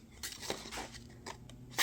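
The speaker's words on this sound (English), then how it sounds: "use the scissors to cut through only to here" Scissors snip through paper in a few quick, close cuts, ending with a sharper, louder snip.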